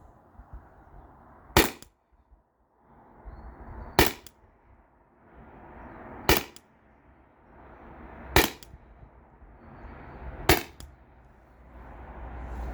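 A Salt Supply S2 salt launcher fires five sharp, loud cracks at a target, spaced roughly two seconds apart, with quiet rustling and handling noise between shots.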